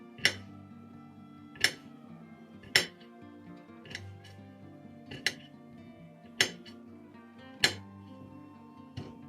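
Knife chopping vegetables into small bits on a board while preparing macaroni salad, seven or eight sharp, evenly spaced chops ringing out over a low background hum.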